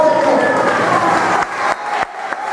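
Church congregation applauding during a worship service, a dense wash of clapping that thins and breaks off in stages near the end, with voices mixed in.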